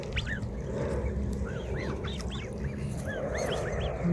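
A swan family at a lake near Brisbane honks and calls repeatedly, short rising-falling notes scattered over a steady rumbling outdoor background, fairly close and without speech.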